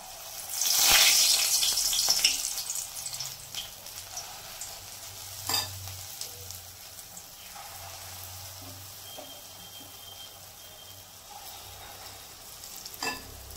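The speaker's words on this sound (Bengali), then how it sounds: "এখন বড়াটাকে ভেজে নেব।" Urad dal fritters frying in hot oil for a Bengali poppy-seed dish, a loud burst of bubbling sizzle as the batter goes in, settling into a steady softer crackle with occasional pops, close by and without talk.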